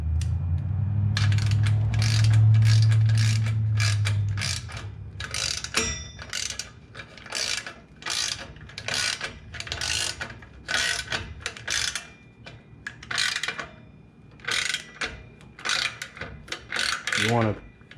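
A ratchet tightens the mount of a smoked turn signal on a third-generation Toyota Tacoma in bursts of sharp clicking strokes, close and distinct, after a low engine rumble at the start.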